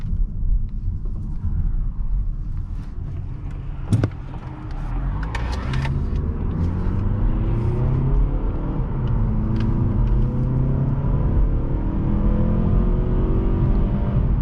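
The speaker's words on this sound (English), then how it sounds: "the engine sounds pretty good at higher speeds" A 2022-2023 Mazda3 Carbon Edition sedan's engine rumbles steadily and builds as it accelerates onto a highway, with rising whine and road noise continuing throughout, no talking.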